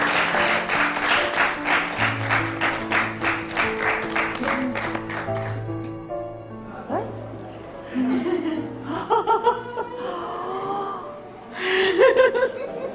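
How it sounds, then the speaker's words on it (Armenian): An audience claps in a steady rhythm for a child performer, and the clapping gives way to scattered laughter, gasps and a final burst of applause. "Իսկ հիմա արի միասին ես ու դու ծափահարենք մեր ապագա դերասանին"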